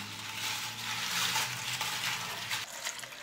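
Water pours steadily into a cooking pot already holding onion skins, a continuous splashing rush lasting about three seconds, close and fairly loud with no voices.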